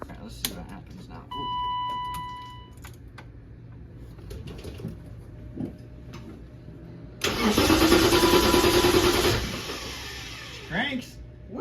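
A free, long-idle BMW car's engine cranks in one loud burst of a couple of seconds after a quiet stretch. People speak briefly around it.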